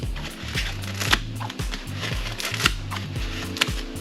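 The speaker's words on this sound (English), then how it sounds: "all we do is we just cut it down here with the scissors" Scissors cutting lengthwise down a fabric hose cover, a run of crisp rhythmic snips and rustles about twice a second, close and distinct with no talking.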